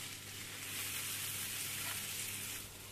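Kadayif shreds with a spoonful of sugar roasting in a pan, giving a quiet, steady sizzle and crackle that runs unbroken throughout.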